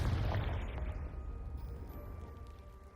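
A Confringo blasting spell detonates in Hogwarts Legacy, a soft booming burst at the start that fades into a low, rumbling decay with faint debris-like clatter.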